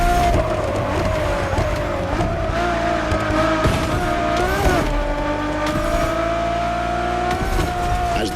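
A Ferrari Enzo supercar's engine howls loud and close in The Crew Motorfest, its pitch rising and falling through gear changes while tires squeal and skid in short bursts.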